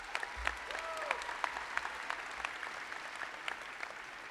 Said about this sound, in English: Let's give one more big round of applause for our award recipients.